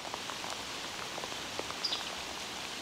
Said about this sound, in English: Starting to rain a little harder.